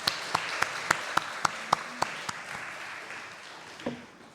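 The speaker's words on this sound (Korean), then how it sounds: "우리 하나님께 영광의 박수 올리겠습니다" A church congregation clapping during a joint worship service, a run of about ten evenly spaced claps that fade out over a few seconds, heard from a distance in a reverberant hall.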